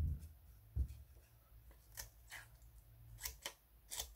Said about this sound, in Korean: 가위 기능을 한번 잘라볼까요?